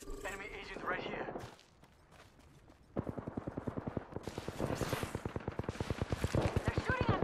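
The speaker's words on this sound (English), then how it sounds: "They're shooting at me." Rapid automatic gunfire from a PC shooter video game, a dense rattling burst of shots that starts after a short lull and keeps going loud and steady, with bursts of game voice chatter and effects before it.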